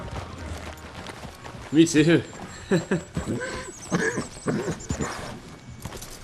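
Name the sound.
horse hooves from video game Red Dead Redemption 2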